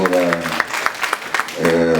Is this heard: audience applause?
yes